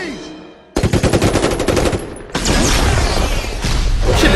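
Rapid automatic gunfire from a dinosaur action movie, loud and close, with a fast rattling burst followed by a dense continuous roar of shooting and booms.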